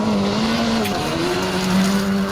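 Rally cars from the Royal Rally of Scandinavia roar past close by with wavering engine tones and tire noise, loud and continuous throughout with no talk.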